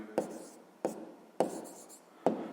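Pen or marker strokes put down a math exercise's numbers in a notebook: four separate, evenly spaced scratchy strokes, each starting sharply and trailing off, close and fairly quiet with no talking.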